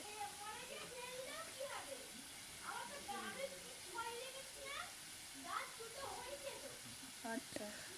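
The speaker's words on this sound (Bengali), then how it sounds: "আমি এটা ভালো করে নেড়ে চেড়ে ভাজতেই থাকবো" Spice paste frying in oil in a pan while being stirred for a pea and rohu fish dish, a steady sizzle with scraping stirs, and voices talking over it.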